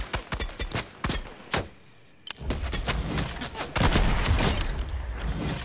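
Gunfire in the video game Fortnite: a string of sharp shots, then a brief lull, then a dense, continuous burst of rapid firing and impacts.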